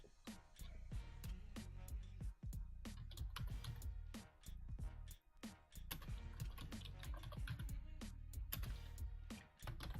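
Typing on a computer keyboard while writing in a live-stream chat: rapid, irregular clicks in bursts over a steady low background hum, fairly close and moderately loud.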